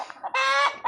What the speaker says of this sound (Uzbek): Tovuqlarimizni, Andijon qora tovuqlari